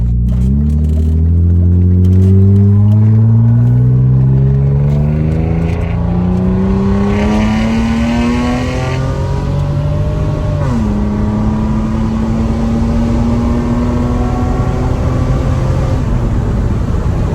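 A BMW E34 Touring with cut springs pulls away and drives, its engine revving up through the gears in rising sweeps, with one clear shift midway before it settles into a steady cruising drone. The car sounds close and loud, and nobody speaks.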